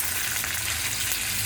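Garlic and white onion sauté in hot oil in a pan, a steady close sizzle and crackle of frying that continues without pause and with no talking.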